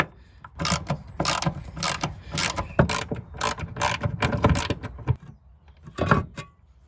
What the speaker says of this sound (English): So we're gonna try and undo some of these nuts.